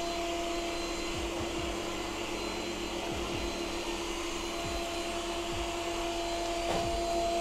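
A Yeedi Vac Max robot vacuum cleaner runs, a steady close whirring hum with a high whine on top and faint low bumps from its wheels and brushes as it moves across the floor.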